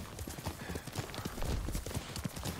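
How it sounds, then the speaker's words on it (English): Horse hooves clip-clop in a rapid galloping rhythm in the video game Ghost of Tsushima, close and steady across the whole stretch with no talk over it. "Yuriko's horse."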